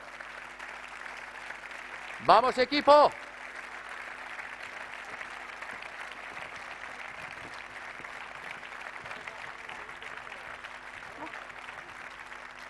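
An audience at a sports awards gala in Navarra applauds in a steady, moderately loud wash of clapping, broken early by a short shouted cheer.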